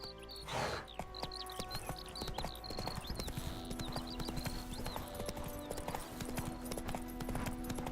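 Roach, the horse in The Witcher 3, trots with steady rhythmic hoof clip-clops on the ground, close and even, over a quiet game soundscape with faint birdsong.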